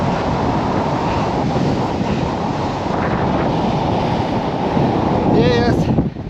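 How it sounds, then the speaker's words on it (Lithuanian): Strong wind blows outdoors in cold weather, a loud, steady, roaring rush that buffets the microphone throughout, with a brief whistling tone near the end. "Vėjas stiprėja"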